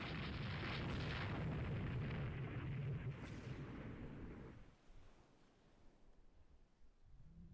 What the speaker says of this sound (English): I have a destroyer launching torpedoes.